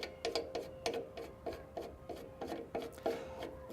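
The side hand wheel on an Allett C24 mower is wound out by hand, giving a close, regular series of about a dozen ratcheting rasps in quick, even rhythm.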